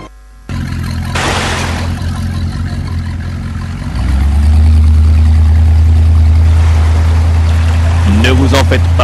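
A boat's motor comes up partway through and settles into a loud, steady droning hum, with a watery hiss running throughout.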